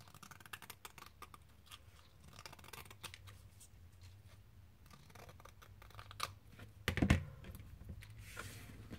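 Scissors snip around a frame for a craft project in a series of close, crisp clicks and crunches, with a louder cluster of cuts near the end and no talking.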